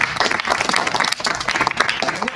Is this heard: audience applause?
yes